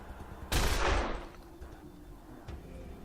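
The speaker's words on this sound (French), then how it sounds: "si je tire, je vais shooter ma propre copine avec" A burst of gunfire in the video game Wasteland 2: one loud blast around half a second in that decays over about a second, then a fainter single report near the end, with no talk.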